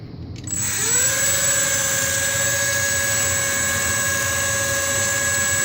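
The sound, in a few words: E-flite UMX Aero Commander RC plane motor throttled up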